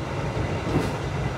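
The Mutiara Selatan train rushes past close by at high speed: a brief, loud, dense rumble with rapid wheel clatter filling the whole moment.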